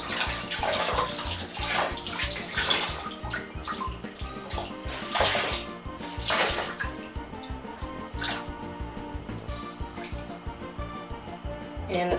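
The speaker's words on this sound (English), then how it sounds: "squeeze the water out." Water is squeezed from a small pet's wet fur during a bath, with splashing, trickling and dripping into the tub in irregular bursts, close by and moderately loud.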